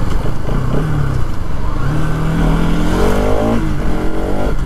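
Revving Bajaj Pulsar NS200, a 2020 BS6 bike, its engine whine sweeping up and down in repeated throttle blips, loud and close, with no voices.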